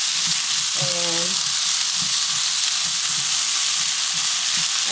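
Llapingacho potato patties fry steadily in a little olive oil, a continuous close sizzle with soft pops and crackles throughout, plus a brief tonal clink near the start.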